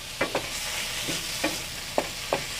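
Chorizo frying in a pan for seafood paella, a close, steady sizzle broken by a few soft stirring knocks, with no one talking.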